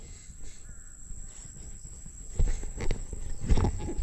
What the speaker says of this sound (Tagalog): Yun yung uwak